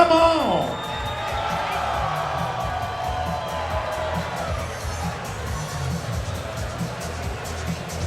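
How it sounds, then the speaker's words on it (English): A fight night crowd at a main event roars and screams continuously, a dense wash of cheering and whoops filling the room throughout, with an announcer's voice heard briefly at the start. "Let me hear you scream"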